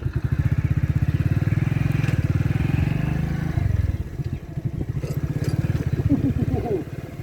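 A Hero Splendor Plus motorcycle on a village road thumps with a close, loud single-cylinder beat, dips briefly, then picks up again as the rider pulls away. Voices are heard over the engine.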